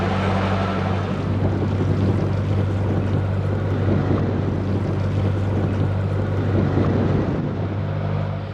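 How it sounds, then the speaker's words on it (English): Strong wind blows by a narrowboat on a windy day near a canal lock, a loud, continuous buffeting rush with steady low rumble throughout, no voices. "The wind detector is saying it's quite a windy day."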